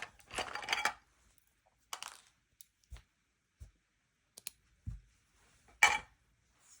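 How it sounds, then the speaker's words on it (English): Scissors click and snip in short, separate bursts amid quiet pauses, with a few soft metallic clinks and taps close by. "Scissors."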